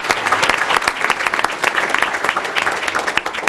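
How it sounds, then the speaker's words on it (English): Applause fills a school board meeting, a steady crowd of hands clapping dense and loud for the full stretch with no break. "So one more round of applause for Michelle."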